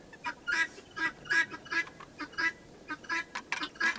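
Guinea fowl calling in a rapid, rhythmic series of about a dozen harsh, grating cries, fairly loud and repeated with no talking.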